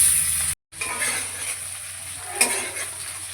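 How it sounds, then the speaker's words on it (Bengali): Potatoes frying in hot oil in a kadai after fish, a steady soft sizzle throughout with a brief dropout and a faint clink near the middle. "ওই তেলের মধ্যে আমি কিছু আলু ভেজে নেব।"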